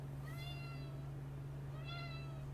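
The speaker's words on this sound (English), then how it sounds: "You just want to come here and rub on things and meow at me?" Two drawn-out meows from a cat in the video game Final Fantasy XVI, spaced apart over a steady low hum, with no talking.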